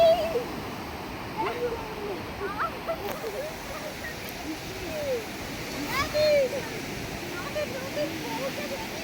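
Sea waves wash onto Puri beach at night in a constant broad hiss and roar, with several voices chatting faintly over the surf.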